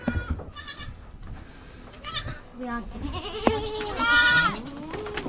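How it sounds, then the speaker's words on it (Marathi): A young goat kid bleats several times in short, high wavering cries close by, with people talking in between, in a Konkan village. "बकरी बघा आमची छोटी पिल्ल नवीनवाली"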